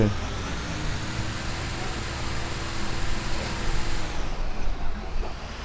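A truck drives in GTA 5, a steady, loud rumble of engine and road noise that thins out near the end, while someone talks over it.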